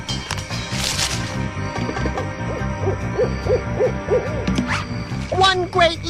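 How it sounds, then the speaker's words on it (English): An owl hoots at night, a series of rounded calls repeating steadily through the middle, then a closer burst near the end, over constant low nocturnal background sound. "That owl's waiting up too!"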